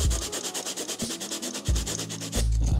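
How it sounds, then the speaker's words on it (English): Sanding down part of a metal camera cage for a GH5 rig to rough it up for epoxy, with steady rapid scratchy strokes running continuously and close up, no talking. "I'm just gonna kind of grind down, or I guess sand down, a little bit of this cage, just so that the epoxy has a little something to stick to."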